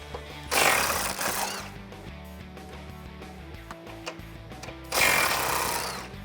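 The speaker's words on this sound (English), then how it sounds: "Grab your 15 deep socket and your impact gun or your ratchet and get to work on these." An impact gun with a 15 mm deep socket works on a 2018-2020 Mustang GT, sounding as two loud, harsh bursts of buzzing hammering about four seconds apart, separated by a quieter stretch of lower mechanical noise, with no speech.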